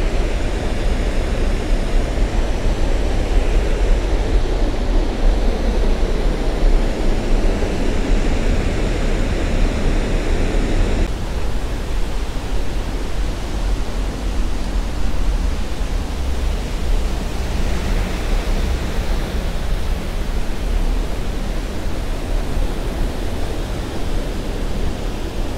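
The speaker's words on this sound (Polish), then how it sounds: "A tutaj mamy wodospad." Small waterfall on Cramond Island, a steady, loud broadband rush of falling water heard up close and continuous, with no voices.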